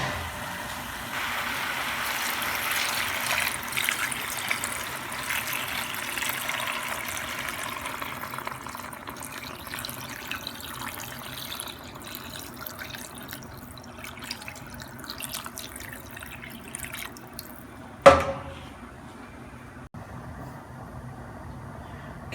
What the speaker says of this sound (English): we're gonna pour some water to about where the meat is at